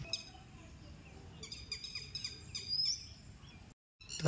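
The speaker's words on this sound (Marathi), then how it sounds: "माका हे बघा दोन पक्षी दिसले आहेत जे किती मस्त ओरडतात" Two birds calling among trees in a farm garden, repeated chirping and whistled calls over steady outdoor background noise, moderately near.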